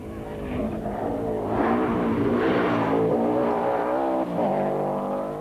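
Subaru rally cars drive an Inishowen stage of the 1992 Donegal International Rally, the engine rising and falling loudly through gear changes as the car passes close by.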